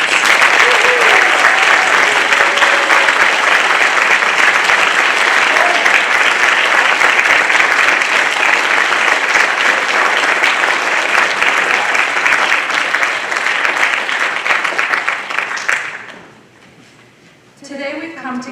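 Loud, sustained applause from a large audience at a Duke engineering master's hooding ceremony for 2022 graduates, steady for about fifteen seconds before fading, then a speaker begins talking.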